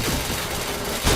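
Rapid gunfire in a video game during a chain of headshots: a dense, loud burst of shots for about a second, with a heavier boom at the end.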